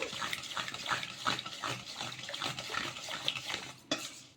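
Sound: water poured over soaking rice

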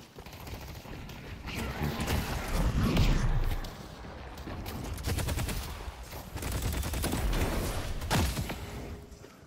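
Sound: Infernus gunfire in video game

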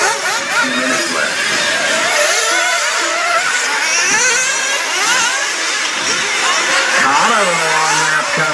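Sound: nitro RC buggies racing on track

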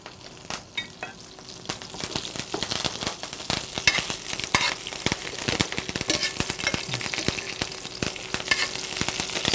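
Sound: fresh thyme sizzling in frying oil

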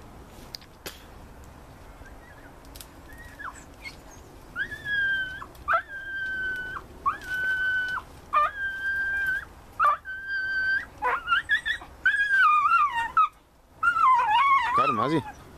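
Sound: dog howling and whimpering in a ditch

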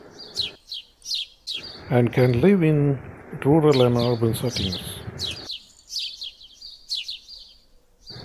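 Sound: house sparrows chirping

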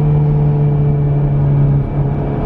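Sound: 2017 Honda Civic Type R turbo engine and exhaust

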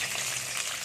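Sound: vegetables added to hot oil in a wok

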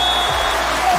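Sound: volleyball crowd oohs and cheers

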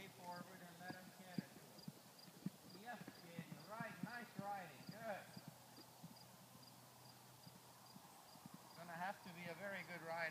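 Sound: British Riding Pony hooves clip-clopping in the arena

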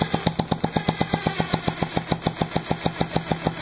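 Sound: steam-powered two-stroke weed eater engine running

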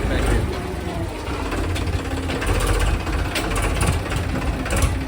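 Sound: tractor engine levelling the road

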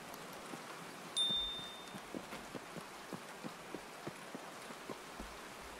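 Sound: rain in Escape From Tarkov video game

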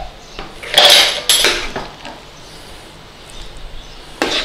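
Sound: transferring corned beef hash into baking dish with utensil

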